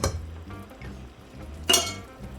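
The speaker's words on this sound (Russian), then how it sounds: "Перемешиваем." Stewed eggplant with vegetables is stirred in a pot: soft scraping and muffled utensil movements, then one sharp metallic clink against the pot's rim near the end, close and otherwise quiet.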